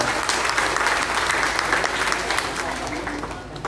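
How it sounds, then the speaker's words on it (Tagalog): A crowd at a food pack distribution event in Balagtas, Bulacan, claps loudly and steadily, a thick wash of applause that fades slightly toward the end, with a voice faintly audible beneath it. "Palakpakan po natin si Liway ng malakas na palakpak."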